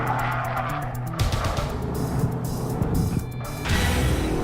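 A car drifts around a course with tires squealing and skidding under a revving race engine, loud and close.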